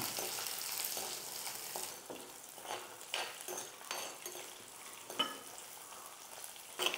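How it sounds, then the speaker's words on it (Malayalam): Shallots frying in a pan for a crab roast while being stirred, a soft continuous sizzle broken by gentle scraping strokes, fairly quiet and close with no speech. "അപ്പോൾ നമ്മുടെ കൊച്ചുള്ളിയൊക്കെ ഇട്ട് നല്ലോണം നമ്മളൊന്ന് വഴറ്റിയിട്ടുണ്ട്"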